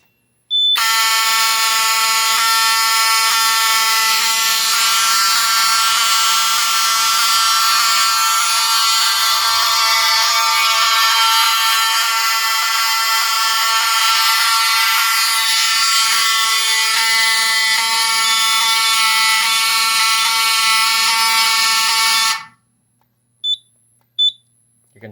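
A loud, piercing fire alarm from a Simplex 4006 system test sounds continuously for about twenty seconds, then cuts off abruptly, followed by a few short clicks.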